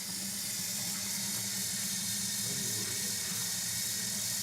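Water runs steadily from a sink tap into a container being filled about halfway for a window tint soap mix, a soft continuous splashing hiss at moderate distance with no talk.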